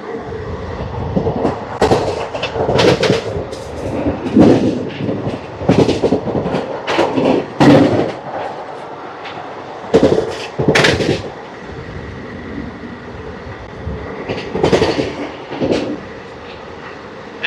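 Ratnachal Superfast Express 12718 with ICF coaches runs past loud and close, a long rolling roar broken by repeated sharp clattering bursts from the wheels over rail joints, with no voices.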